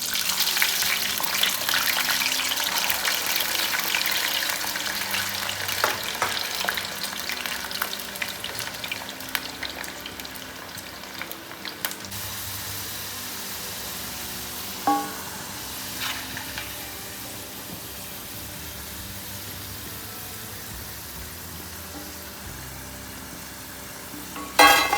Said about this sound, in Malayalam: ഇത് മിക്സ് ചെയ്ത് നമ്മുടെ എണ്ണയിലിട്ട് വറുത്ത് കോരിയെടുക്കുക.